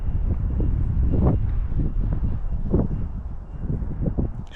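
Strong gusting wind roars across an outdoor microphone during a DJI Flip drone flight over Oakhill Nature Reserve, a loud continuous rumble that swells and buffets throughout.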